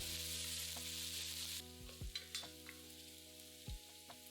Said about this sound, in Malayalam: അതിലേക്ക് 2 ടേബിൾ സ്പൂൺ വെളിച്ചെണ്ണ ഒഴിച്ച് ഒരു ചെറിയ കഷ്ണം ഇഞ്ചി ചതച്ചത്, 3 വെളുത്തുള്ളി അല്ലി ചതച്ചത്, ഇത് രണ്ടും കൂടിയിട്ട് ഏതാനും സെക്കൻഡ് മൂപ്പിക്കുക.